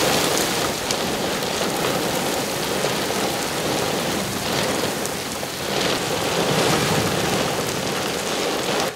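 A steady, loud downpour from a supercell thunderstorm near Nördlingen hisses without pause, with gusty wind surges swelling and fading through the constant wash of rain.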